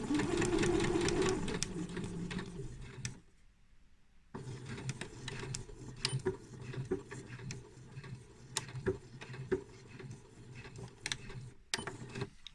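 A sewing machine stitches a small pincushion in steady rapid bursts, pausing briefly about a third of the way through before running again, close and fairly loud with a rattling mechanical texture.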